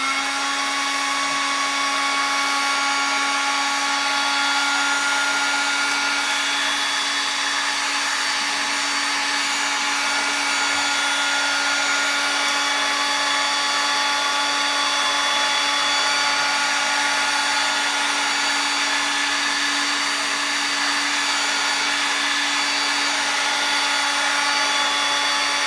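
Heat gun running steadily while warming the wrap on a drum shell, a constant close fan roar with a fixed motor whine and an even airflow hiss, unbroken for about twenty-five seconds, no voices.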